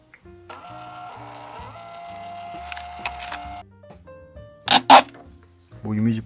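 A thermal receipt printer prints a photo, giving a steady mechanical whir with stepped tones for about three seconds. A sharp tearing noise and clatter follow near the end.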